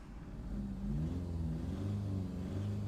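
A 2011 Seat Ibiza 1.2 TDI diesel engine revs while the car sits stationary with nothing in the intake manifold, a fairly quiet, close hum that climbs and holds as the revs rise, with no talking.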